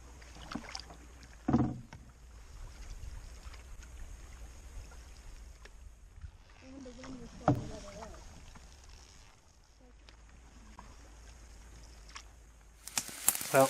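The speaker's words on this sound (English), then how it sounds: "paddled 7 kilometers up Little Caribou Lake to our first campsite for the night" A canoe paddled up a northern lake gives quiet rhythmic dips and water swirls with faint knocks against the hull, plus a few louder splashes and brief rustles, under a calm outdoor hush.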